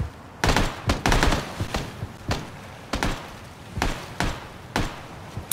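Gunfire in PUBG: a long series of sharp, loud shots, some in quick doubles and others spaced about a second apart, cracking over faint background noise with no talk.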